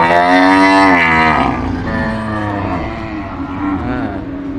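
Cattle at a livestock market, including small cattle, giving a loud close moo that slides down in pitch, followed by a lower, rougher lowing and general market bustle.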